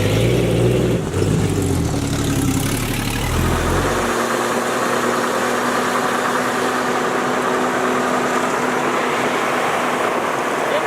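An old Jeep engine runs steadily on a test drive, with a rougher, louder rev at first that settles after about four seconds into a lower, even engine drone.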